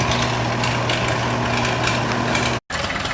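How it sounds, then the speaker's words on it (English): A Super MTA diesel tractor at a Red Power Round Up show, its engine cranking slowly and reluctantly in a steady, loud, continuous drone, briefly cut to silence near the end before the grinding resumes. "here's our Super MTA diesel. Turning over very slowly."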